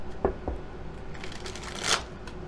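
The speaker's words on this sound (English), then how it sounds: "I'm going to get a feel for these cards while I'm shuffling the tarot cards" Tarot cards being shuffled by hand close up, with a couple of soft taps followed by a quick riffling flutter, quiet and alone.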